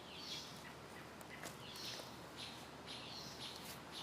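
Robins in a deep, shady forest give faint, scattered chirps and calls at a distance over a soft, steady background hiss.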